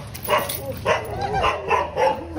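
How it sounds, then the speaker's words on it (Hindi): A long-haired dog barks in a rapid series of about five sharp, close yips and woofs at an even rhythm, with a brief whimpering whine between them and no talking. "ये बाल वाले कुत्ते"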